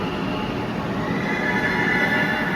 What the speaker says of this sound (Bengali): একটা মেট্রো ঢুকলো সেন্ট্রাল পার্ক স্টেশনে।